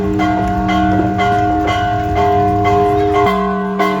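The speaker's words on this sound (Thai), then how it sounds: "คือเสียงนะครับตีระฆัง" A large temple bell in Kathmandu, Nepal rings with a rich, sustained metallic hum and shimmering overtones, struck again partway through, loud and close with no talking.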